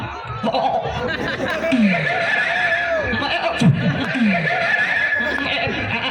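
A man imitates a goat with a bleating, whinnying voice, giving several short wavering calls amid a lively comedy circus crowd with laughter around it.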